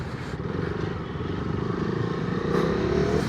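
A KTM Duke 390 motorcycle engine runs in a continuous low, rumbling drone that swells slightly toward the end, with no talking.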